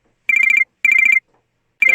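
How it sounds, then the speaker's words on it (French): A telephone rings electronically in three bursts of rapid trilling pulses separated by short silences, loud and close with no talking over it. "Tiens, il y a ton téléphone qui sonne, là."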